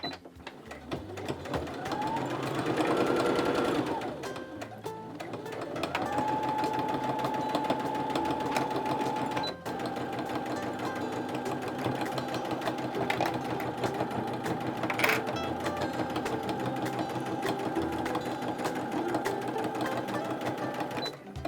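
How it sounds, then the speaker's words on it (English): A sewing machine stitches fabric bunting in long continuous runs, its motor whirring steadily and loudly up close, with speed changes, a short reverse section and a brief pause partway through. "start sewing, and then do a few backward stitches. And then start sewing forward again"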